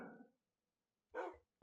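A puppy in the Minecraft video game gives a couple of short, quiet barks separated by a pause, with a faint yip at the end.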